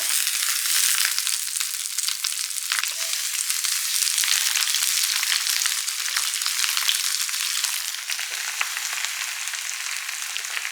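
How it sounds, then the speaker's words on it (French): Lettuce heads laid on a hot grill plate coated with olive oil at a vegan barbecue, sizzling loudly and steadily throughout, a dense crackling hiss with no talking. "je vais venir mettre un filet d'huile d'olive sur la plaque. Et je vais y déposer mes salades."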